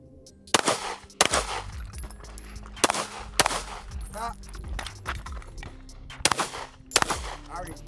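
Gunshots from a Taurus G3 Tactical pistol at a shooting range, about six sharp, loud reports spaced irregularly with brief gaps, over outdoor background noise.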